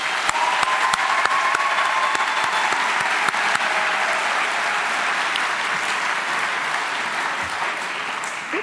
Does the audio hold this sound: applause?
yes